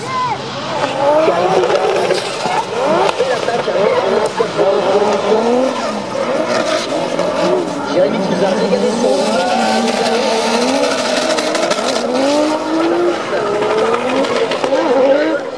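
Drift cars battle side by side at a French drift championship at Le Castellet in 2018, engines wailing and revving with tire squeal throughout, loud and continuous under excited commentary.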